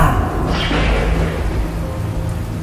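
A rumbling thunderstorm from a Bengali horror cartoon rolls on loud and continuous, deep booming thunder mixed with a steady rain-like wash and no voices.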